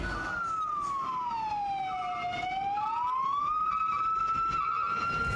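An ambulance and fire engine siren wails steadily, its pitch sweeping slowly down and back up, loud and close, with traffic rumbling underneath, responding to a factory explosion.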